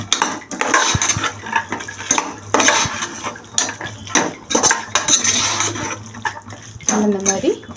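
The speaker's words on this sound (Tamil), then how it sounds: "இப்போ நம்ம எடுத்து வச்சிருக்கிற பட்டாணியும் கூட சேர்த்து நல்லா மிக்ஸ் பண்ணிக்கணும்" Carrots, beans and peas being stirred together in a pot for vegetable pulao, with repeated scraping and clinking of a spoon against metal, fairly close, and a steady low hum underneath.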